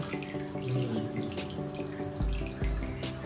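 Water gushes steadily from a washing machine drain hose laid down on the floor after a wash, a continuous splashing flow heard close up.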